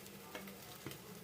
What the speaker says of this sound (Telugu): క్యారెట్ని బాగా వేయించండి.